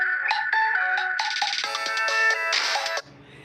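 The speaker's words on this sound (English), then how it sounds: "Sorry, I had a phone call." A phone ringtone for an incoming call plays a bright, repeating melodic pattern of electronic notes for about three seconds, loud and close, then cuts off into quiet room noise.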